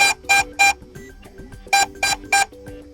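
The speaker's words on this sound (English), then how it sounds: "then you can start flashing and beeping" Sharp electronic beeps from a DJI Air 3S drone's locator sound in short bursts, three then three more, loud and close, with quieter tones between them.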